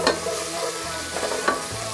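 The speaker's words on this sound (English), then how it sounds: "Garlic. We saute until caramelized." Garlic, added after onion, sautés in a pan for an Indonesian oxtail soup, giving a steady close sizzle with a few scraping stirs of a utensil against the pan.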